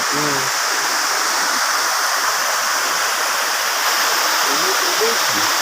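Water flows steadily in Tagbilaran, Bohol, a continuous close rushing hiss like a stream or outlet running, with faint voices briefly audible underneath at the start and end.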